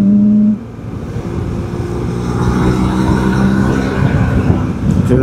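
BMW motorcycle riding along a road, a steady close engine drone with wind rush that swells slightly and holds, no talking.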